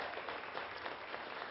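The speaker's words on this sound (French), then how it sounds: "On peut l'applaudir." Brief applause from an audience at a televised talent showcase filmed in Dolbeau-Mistassini, a steady wash of clapping at moderate level with no voices over it.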